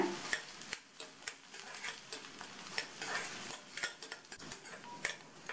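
Onions with whole dried red chillies sauté in a pan, giving a steady sizzle broken by frequent sharp clinks and scrapes of a stirring spoon against the metal, close up and with no talking.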